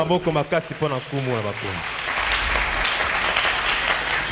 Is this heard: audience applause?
yes